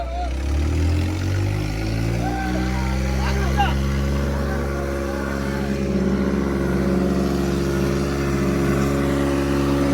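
New Holland tractor engine straining under full throttle in a tractor tug-of-war, a steady loud low drone with rising pitch early on, while people talk over it.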